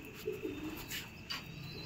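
A pigeon coos faintly in a loft, a couple of brief low throaty calls against quiet background hiss, alone without talking.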